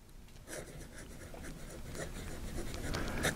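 A fountain pen with a flexible Waterman nib scratches faintly across paper in short, soft strokes, a quiet close-up rustle with low room noise.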